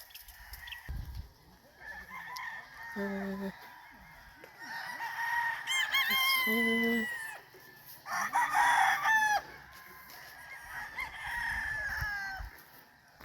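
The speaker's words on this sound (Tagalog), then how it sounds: "ang gwapa yung manok ba" A fighting rooster crows loudly several times in a row, its long harmonic calls rising and falling, with softer clucks and other farmyard fowl noises between them, on a farm in Murcia, Negros Occidental.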